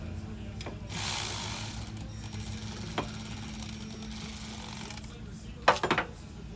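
A ratchet wrench clicks while tightening a bolt on a Kubota mower deck under repair, steady mechanical ratcheting up close, with a few sharp metallic knocks and a louder clatter near the end.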